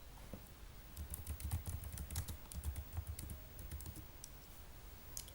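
Rapid, uneven keystrokes on a computer keyboard as a command is typed into a terminal, clicking steadily and close at moderate volume with no talk.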